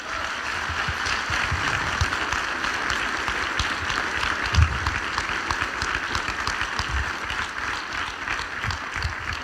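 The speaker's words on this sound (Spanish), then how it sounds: "Dele un aplauso a Dios." A church congregation applauding, a steady wash of clapping from a crowd holding at an even level, with a few louder thumps partway through.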